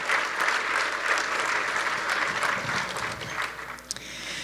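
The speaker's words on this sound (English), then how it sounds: "I want everyone to give them a round of applause." A conference audience gives a sustained round of applause for the conference committee, a full, even wash of clapping that thins slightly toward the end.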